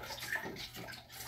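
A big clean spoon stirring about three gallons of honey-and-water mead must for strawberry mead, a faint, soft watery swishing and sloshing up close, with no voices.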